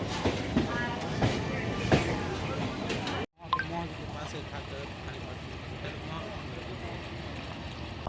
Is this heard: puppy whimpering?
no